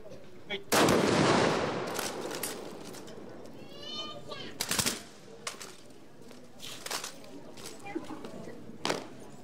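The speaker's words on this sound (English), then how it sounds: "Brace yourselves for another salvo as a tribute to the Philippine, the mother unit of the Philippine Marine Corps." A Philippine Marine Corps ceremonial rifle salvo goes off as one loud, sharp volley that rings out and fades, followed by scattered smaller cracks and clatter, with voices in the background.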